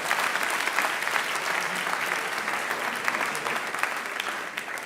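A TEDx audience at Oxford breaks into steady, dense applause after a mental-math demonstration, loud and sustained throughout with a faint crowd murmur underneath.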